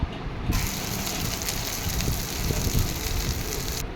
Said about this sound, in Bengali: এখানে আমি চিকেন রান্না করার জন্য সব মশলাকে ভালোভাবে ভেজে নিচ্ছি